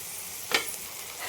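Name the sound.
sautéing vegetables (peas, tomato) in a pan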